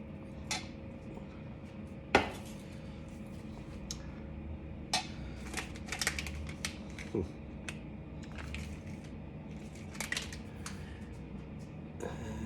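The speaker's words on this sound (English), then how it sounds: "Try to stir up some of the ingredients." A spoon stirs spicy Buldak chicken-flavour ramen noodles in a bowl, giving sparse, light clinks and scrapes against the bowl over a quiet background, with a few sharper knocks scattered through.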